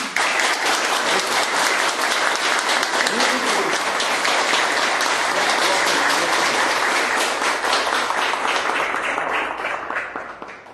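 An audience breaks into loud, sustained applause, a dense wash of many hands clapping that holds steady for about ten seconds before fading out at the end.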